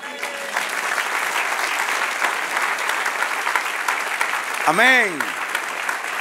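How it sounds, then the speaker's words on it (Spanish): A church congregation applauds during a Spanish-language sermon, steady dense clapping that fills the room, with a voice calling out briefly near the end over the applause. "Aplauso."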